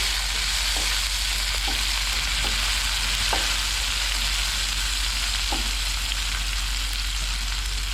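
Three chopped chilies frying in a pan with half a chopped tomato, a loud steady sizzle with a few faint stirring clicks scattered through it.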